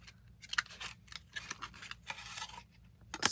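Paper is folded and creased along a ruler while assembling an artist trading card holder, giving crisp, close rustles and scrapes in short irregular bursts with brief pauses between them.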